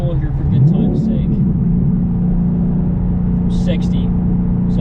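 A Ford Mustang accelerates hard in one long pull: a loud, close, steady engine drone with a rough rumble underneath that holds at full volume for the whole stretch.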